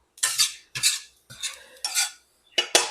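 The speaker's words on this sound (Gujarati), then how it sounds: "ચાલો આ બધો મસાલો પેલા મસાલામાં આપણે એડ કરી લઈશું" Spoon or spatula scraping and clinking against a bowl while spice masala with sugar and sour powder is mixed for Surti-style poha chevdo, in five or six distinct stirring strokes separated by short pauses, close and fairly loud.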